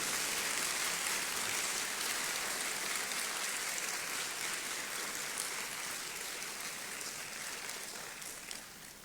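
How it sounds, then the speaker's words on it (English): Sustained applause from a ceremony audience fills the space as a dense, even wash of clapping, holding steady at moderate loudness and easing off slightly toward the end. "Shall we do one more big round of applause to appreciate him?"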